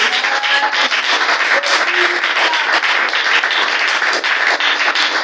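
A church congregation at a missionary worship service applauds together in a dense, loud, steady wash of clapping that carries on without a break.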